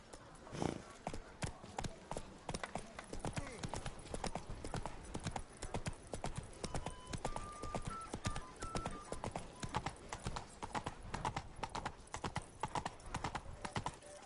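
Hooves of the horse Roach clip-clop in a video game, a brisk, steady rhythm of distinct hoof strikes close up, running continuously with faint game music and occasional voice beneath.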